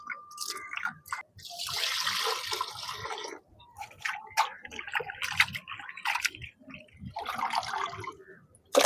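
Squid being rinsed and scrubbed by hand in a basin of water for a Jaffna squid curry, with repeated splashes, drips and sloshing close by, busy in bursts and pausing briefly.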